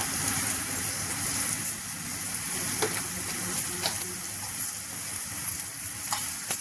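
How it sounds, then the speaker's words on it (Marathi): Chopped tomatoes with a pinch of salt fry in a pan over a low gas flame for mung dal amti, giving a steady, close, crackling sizzle throughout with no voices. "छान बारीक बारीक गॅसवरती चांगलं फ्राय करून घ्यायचं"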